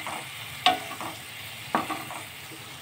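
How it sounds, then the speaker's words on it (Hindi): Sev tomato curry cooks in a pan with a soft oily sizzle underneath, broken by two distinct spoon scrapes as it is stirred, about a second apart. "और अच्छे से इसको मिक्स करेंगे। इसको अच्छे से मिक्स करना है और जब तक पकाना है जब तक इसके ऊपर ऑयल नहीं आ जाता।"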